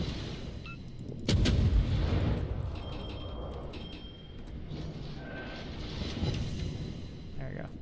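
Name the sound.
naval gunfire in World of Warships video game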